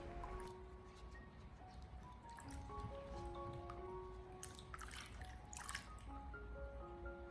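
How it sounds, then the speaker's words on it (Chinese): Snow pears being rinsed by hand in a basin of clean water, with steady close splashing, dripping and sloshing throughout and no talking. "然後再重新的添加滿清水，繼續的給它清洗一下"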